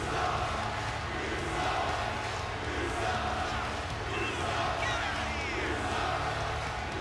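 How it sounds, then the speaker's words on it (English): A German arena crowd in the WWE 2K24 wrestling game jeers loudly and relentlessly at AOP, a dense, continuous roar of boos and shouts that fills the space throughout with no letup. "The Germany crowd is definitely letting AOP have it here tonight, as they are being absolutely relentless"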